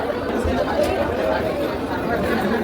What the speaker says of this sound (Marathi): रविवार असल्यामुळे गर्दी खूप आहे.